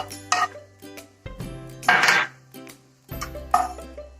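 Cashew nuts dropped into a pan beside browned onions for a masala, with several sharp clinks and clatters of a utensil on the pan and a brief rattling burst in the middle.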